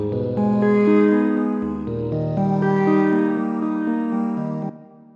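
A sung vocal sample turned into a synth instrument for a game soundtrack plays a sustained, layered melodic phrase of held notes with a bass line shifting underneath, steady and full for about five seconds before cutting off.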